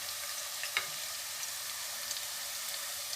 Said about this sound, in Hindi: आधा प्याज हो गया, अब इसमें कीमा डालेंगे।